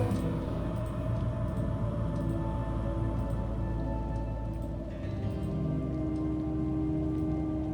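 Steady heavy video game rain pours continuously with a dense hiss, unbroken throughout, with faint low rumbling underneath.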